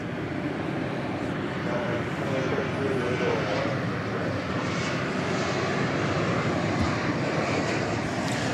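An American Airlines jet in Reno Air special livery, arriving from Raleigh-Durham, rumbles steadily as it comes in at DFW Airport at night. The broad engine roar holds at an even level throughout, with faint voices mixed underneath.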